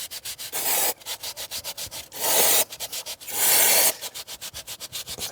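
Rhythmic rubbing on a Clio 2 RS engine to clear grime, quick close back-and-forth scrubbing strokes broken by a few longer sustained rubs, loud and with no voices.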